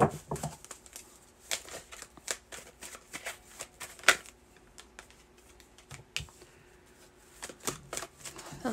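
Tarot cards shuffled by hand during a Sagittarius reading, a rapid series of crisp riffling snaps and soft slides repeating in bursts, close and fairly quiet with no talk.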